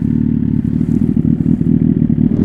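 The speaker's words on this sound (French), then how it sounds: "Celle-là, à bas régime, elle a vraiment un bruit rauque." Suzuki GSX-R motorcycle fitted with a Yoshimura R11 exhaust pulling away at low revs, a deep, raspy engine note that stays loud and close throughout with a steady rumble and no talking.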